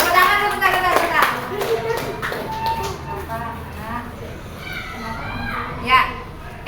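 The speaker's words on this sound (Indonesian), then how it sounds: "tepuk tangan dulu" A classroom of schoolchildren claps after a student presentation, a scattered burst of small hands under lively children's chatter and voices.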